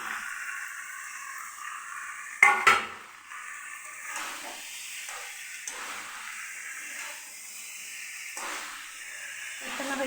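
Tomatoes drop into meat browning in a pan, setting off a sudden loud sizzle burst that fades into a quieter, steady hiss and crackle.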